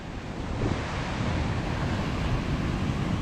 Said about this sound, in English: There's an absolute monster of a wave coming in here.